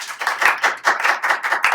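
An audience in the stands at a celebrity golf event claps in an audio drama, with a short run of close, crisp handclaps in a quick, fairly regular rhythm.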